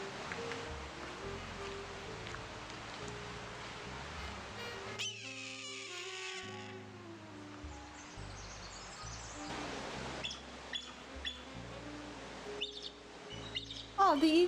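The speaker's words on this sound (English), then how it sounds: "what does an actual bald eagle sound like?" Bald eagle calls played from a comparison clip: thin, high chirps and whistling piping notes repeating in short bursts, faint against a noisy background with a few louder squeaks near the end.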